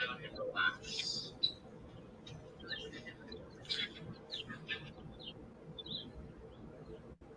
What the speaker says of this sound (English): I notice the birds are a little aggressive there, Matt, in your background